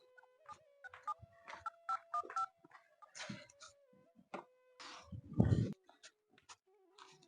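Mobile phone keypad tones as a number is dialed, a quick run of short, evenly spaced beeps, followed by a brief louder rustle and a few scattered clicks in an otherwise quiet indoor room.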